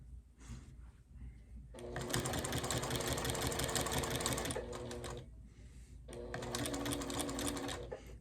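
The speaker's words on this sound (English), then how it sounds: "that is where I'm going to stop sewing, and then I'm going to pivot and sew into the corner of the quilt over here" A sewing machine stitches binding onto a quilt in two steady, close runs, a fast mechanical whir broken by a short pause where the stitching stops, then resumes for a few more seconds.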